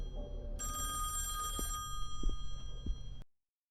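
A telephone rings indoors, a bright electronic ringing tone with steady harmonic pitch over a low rumbling background, lasting about a second and then falling away before the sound cuts off.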